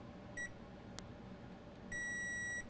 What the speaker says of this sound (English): I just want to test the continuity between this resistor and the capacitor here.